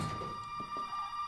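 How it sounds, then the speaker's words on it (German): A telephone rings in the horror game Resident Evil 7. It is a steady, thin electronic ring tone, faint and brief, heard alone with a few soft thumps behind it. "Telefon."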